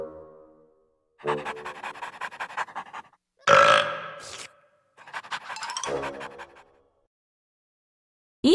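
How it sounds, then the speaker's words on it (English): A cartoon character in a children's learning game lets out a loud, drawn-out burp among short bursts of breathy panting and scratchy effects, close up with no talk. "Eli's burp told everyone that he ate all the cookies."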